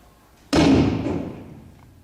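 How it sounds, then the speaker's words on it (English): A single loud, booming cannon shot erupts suddenly, then rolls away in a long, fading echo lasting over a second. "how this echoing cannon shot digests my case"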